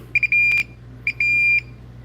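Tester beeps from a Klein or Ideal electrical tester running on a nearly dead battery: a few short beeps, then one longer steady tone, a second short chirp and another sustained tone, clear and close over a low background hum.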